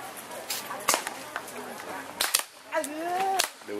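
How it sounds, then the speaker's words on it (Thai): Toy guns popping at a shooting stall in the Chiang Mai night market, several sharp cracks spaced irregularly amid crowd chatter and voices nearby. "ดูนะว่าฝาตะวันจะยิงโดนหรือเปล่า"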